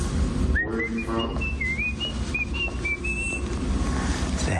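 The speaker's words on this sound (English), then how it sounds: "You ever notice how much Markie Boy likes to whistle?" A man whistles a wandering tune outdoors, the notes sliding and held in short phrases, set over steady background hum and rumble.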